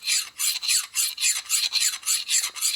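Steady rhythmic rasping of a file stroking across a metal edge, about ten bright scraping passes in a regular back-and-forth pattern, close up with no talking.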